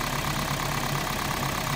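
A Toyota Prius engine idles during coolant bleeding work, giving a steady, loud mechanical hum and rumble that holds constant through the short stretch, with no voices.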